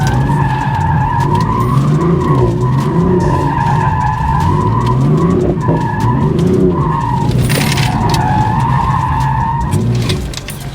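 BMW F82 drifting in a figure-eight with loud, continuous tire squeal over a revving engine, the squeal rising and falling in pitch as the car swings through each turn.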